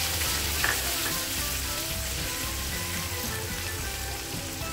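Ginger garlic paste and browned onion fry in hot oil in a pan, giving a steady, close sizzle with soft crackling that stays loud and even throughout.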